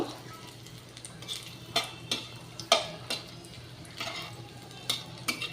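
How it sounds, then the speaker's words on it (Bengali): Bay leaves and cardamom pods go into hot oil for a vegetarian paneer dish. A faint, steady sizzle runs under scattered light clicks and taps of a utensil against the pan, close but quiet. "তেলের ওপরে আমি তেজপাতা দিয়ে দিলাম দুটো একটা তেজপাতা ছিঁড়ে দিয়ে দিলাম এলাচ দিলাম দুটো"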